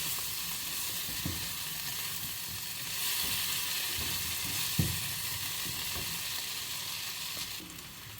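Ground spices and pepper fry in hot oil for a potato and spinach dish, a continuous steady sizzle with occasional soft knocks of the spoon, heard close with no talking.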